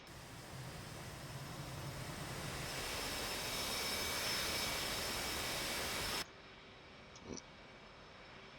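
F/A-18C Hornet jet engines idling steadily after a cold start in the DCS World flight simulator, a loud continuous roar that swells slightly, then cuts to a much quieter hum near the end with a brief click.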